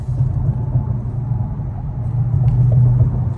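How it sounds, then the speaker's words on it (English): A Dodge SRT engine swapped into a 300 rumbles through its stock exhaust pipes while driving in traffic, a steady low drone at moderate loudness with some road and wind noise and no talking. "I ain't got pipes on here. It's all stock pipes, but it sounds good."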